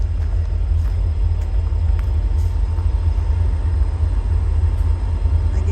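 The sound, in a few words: idling train rumbling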